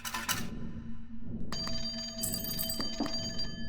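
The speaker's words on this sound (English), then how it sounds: "But the phone rings." Telephone ringing in the CloverPit video game, a bright bell-like ring that starts after a short burst and sustains with shimmering repeated tones, fairly loud with no talk.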